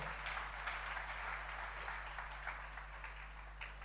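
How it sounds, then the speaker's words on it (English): A church congregation gives a clap offering, steady dense applause from a crowd in a large room, moderately distant and sustained throughout with a faint electrical hum underneath. "Give Jesus a clap offering."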